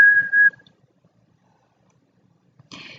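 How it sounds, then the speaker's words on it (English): A beluga whale's bright, steady whistle rings out for about half a second, followed by silence and then a burst of higher, noisier chirping near the end. "I can even make a loud whistling sound."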